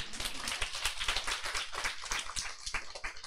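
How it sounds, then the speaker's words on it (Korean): An audience at a business seminar claps in a brisk, uneven patter of individual hand claps, fairly close and moderately quiet, with no talking over it. "박수 한번 쳐드리세요"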